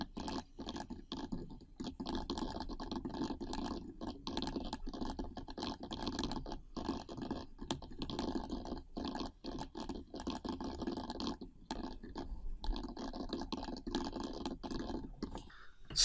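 Typing on a computer keyboard while entering text for a blog post in a website builder, a steady run of close, quiet key clicks lasting throughout with no talking.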